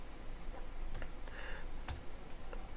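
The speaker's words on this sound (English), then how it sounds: "just click here and type display" Keys tapped on a computer keyboard while entering text in a WordPress post editor, a few quiet, scattered clicks over steady room hiss with no talking.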